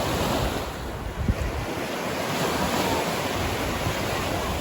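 Sea water and small waves wash around the feet while wading at the beach at Playa de Muro, Alcudia, Mallorca, a constant broadband surf rush mixed with gusty wind noise on the microphone, with no voices.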